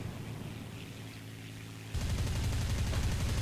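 Aircraft machine guns and cannons fire in the air combat game War Thunder: a low engine drone first, then a sudden loud, continuous rattling burst of rapid gunfire in the last half with no speech.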